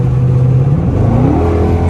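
Dodge Charger R/T engine revving, a loud close low engine drone whose pitch climbs briefly as it revs.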